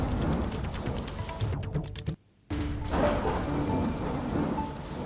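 Heavy Mumbai rain pours down in a dense, loud, continuous hiss of drops striking surfaces, broken by a brief near-silent cut midway before the downpour resumes.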